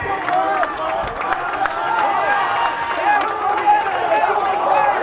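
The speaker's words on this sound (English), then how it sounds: "Tremendous crowd here watching the game tonight." A big crowd at a night high school football game buzzes and cheers steadily in the stands, with scattered shouts and claps, while people talk over it.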